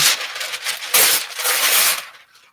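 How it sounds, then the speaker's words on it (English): Thin, waxy paper ripped off a thick roll, a bright crackly tearing noise, close and loud, lasting a couple of seconds in uneven bursts before stopping. "Sorry about the ripping noise."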